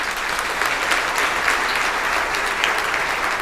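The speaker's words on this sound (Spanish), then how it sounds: "Un aplauso al Señor Jesús." A congregation at a charismatic renewal church concert applauds, a dense, steady wash of many hands clapping at even loudness for a few seconds.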